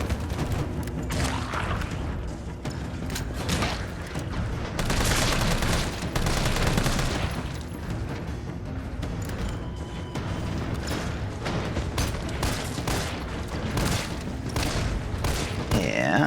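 Rapid gunfire from Resident Evil 3 Remake, with dense bursts of shots and impacts over busy in-game action and music, steady and loud throughout.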